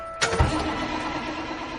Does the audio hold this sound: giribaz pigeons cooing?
no